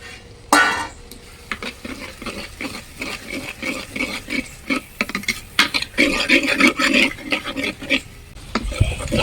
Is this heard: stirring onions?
yes